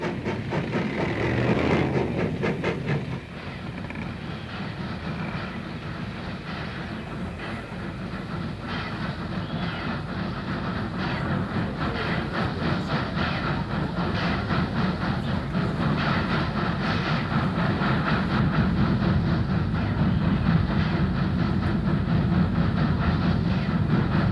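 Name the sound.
Southern Pacific cab forward steam train starting up and approaching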